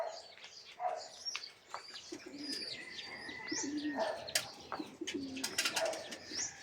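Racing pigeons coo and chirp at a loft during a 149 km race, with soft repeated calls and flutters spread over steady birdsong-like background, fairly faint.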